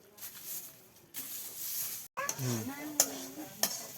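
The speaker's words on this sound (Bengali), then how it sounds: "দিয়ে ভালো করে ভুনা করে নিচ্ছি" Chicken curry is stir-fried bhuna-style in a pan, with a spoon scraping and clattering against the metal over a low sizzle. Brief scraping strokes come in bursts, separated by a short pause.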